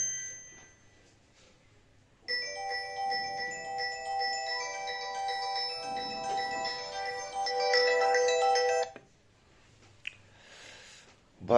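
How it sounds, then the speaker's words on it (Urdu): A mobile phone rings with an incoming call, a tonal electronic melody looping for several seconds before stopping, with someone speaking briefly before and after. "کال میری بیٹی کی آ رہی ہے"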